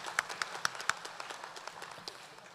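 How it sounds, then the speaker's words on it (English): An audience at a spring university commencement ceremony claps in a large hall, scattered sharp claps over a fairly faint, distant wash of applause. "A big round of applause for Gabriel."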